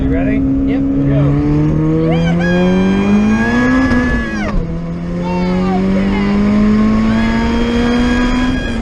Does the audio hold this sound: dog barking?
no